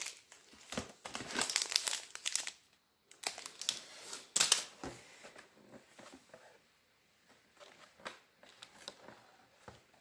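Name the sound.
tearing open paper wrapping of an advent calendar gift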